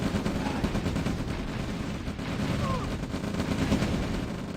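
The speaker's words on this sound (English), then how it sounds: "my opponent's moved straight in to the attack and they're shelling my construction yard" Artillery shells pound a construction yard in the OpenRA Red Alert strategy game, a dense, continuous barrage of blasts and gunfire rumbling steadily throughout with no clear pauses.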